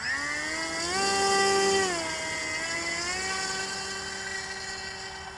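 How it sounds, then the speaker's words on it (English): A Skywalker 1830mm RC plane's electric motor whines loudly at takeoff power, its pitch rising steadily then easing back and settling into a steady lower drone, close and alone with no talk. "It's up. Took a fair bit of power, but I can ease off a lot once it's in the air."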